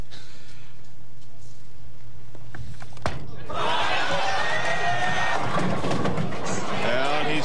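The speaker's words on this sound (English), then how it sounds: "He wants applause for cleaning up the lanes." Bowling crowd at the 2000 PBA Brunswick World Tournament of Champions erupting into loud cheering and applause after a quiet stretch, sustained and close, with commentators talking over it.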